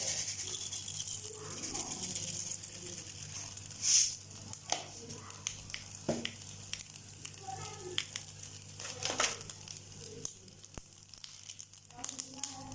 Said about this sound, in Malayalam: കുറച്ച് വെളിച്ചെണ്ണ ഒഴിച്ച് എണ്ണ ചൂടായിട്ട് നമുക്ക് കടുകിടാം.